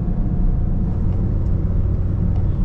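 A Honda Brio engine drones steadily while driving uphill into highland terrain, a close low rumble of cabin road noise that holds even throughout with no talking.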